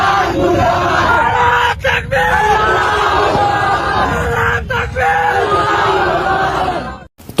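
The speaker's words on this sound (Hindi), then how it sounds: "तो ये नारेबाजी हो रही है" Large protest crowd chanting political slogans in unison, loud and continuous, with many voices shouting together and brief dips between chant phrases before cutting off near the end.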